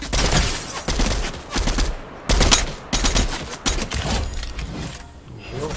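Rapid bursts of video game gunfire crackle in close, loud volleys separated by short pauses, with a voice talking over the shooting.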